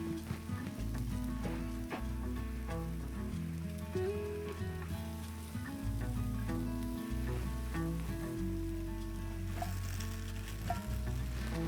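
Pasta and heavy cream sizzling in a very hot wok over charcoal, a continuous close frying crackle layered over a pulsing low background beat.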